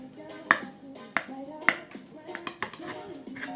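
A knife cuts through a vegan-vegetarian carrot cake made with wine, giving several sharp clinks and taps of metal against a plate at an irregular pace, close and fairly quiet, with a faint voice in the background.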